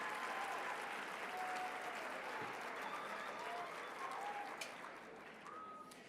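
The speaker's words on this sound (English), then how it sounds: "let's give a round of applause to our 12 contestants for Mr. VHS 2019 and their lovely escorts" Sustained applause from a school audience for twelve contestants and their escorts at the Mr. VHS 2019 pageant, a steady dense wash of clapping across the whole span with faint voices and whistles threaded through it.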